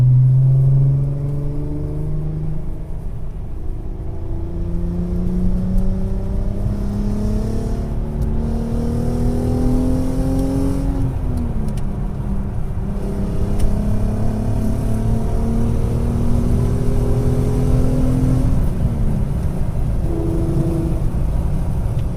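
Heard from inside a Volkswagen Golf R32, the engine drones loudly and climbs in pitch through repeated gear changes, with a steady road rumble underneath and no talk.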